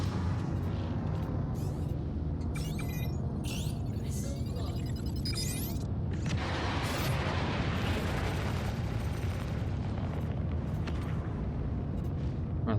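Missiles burst in Star Citizen space combat as a series of sharp pops and booming blasts that blend into a continuous rumbling roar, moderately loud throughout.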